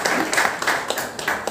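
An audience claps at an event, a short burst of brisk, dense applause from a nearby crowd.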